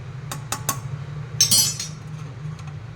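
Melted soap base stirred in a double container, a few light clinks of a utensil against the vessel, some brief and close, over a low steady hum.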